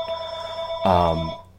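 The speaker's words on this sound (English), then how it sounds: "Sorry, that's my phone and I can't reach it right now." A telephone rings once in the middle of a podcast recording, a short buzzing electronic ring lasting about half a second over a steady background hum, near and clear.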